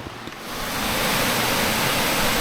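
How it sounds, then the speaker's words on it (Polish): A river running from a waterfall in the Peak District swells in over the first half second, then holds as a constant, loud, near rushing roar with no voices. "mieliśmy chociaż widoczki tego, co spływa z tego wodospadu, bo ta rzeka to właśnie prawdopodobnie z tamtego wodospadu jest"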